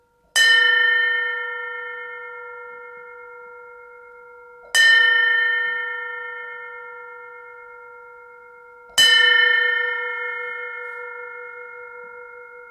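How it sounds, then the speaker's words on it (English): A single bell is struck three times at even intervals of about four seconds, each strike ringing out clearly and decaying slowly into silence, with nothing else heard between the rings. "Let's just let me ring it again. Let's go just on listen then. now. I'll ring it 3 times."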